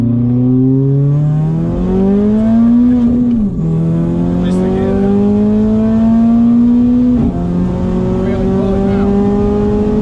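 A big-turbo Mercedes A45 AMG with Four-matic four-wheel drive accelerates hard, its engine note climbing steadily through two gearshifts, loud and close from inside the car, with voices talking over it.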